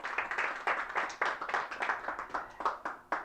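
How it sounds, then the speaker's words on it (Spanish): A church congregation claps loudly and steadily for the Lord, a dense rhythmic patter of many hands that keeps going without any voices. "Dale un fuerte aplauso al Señor"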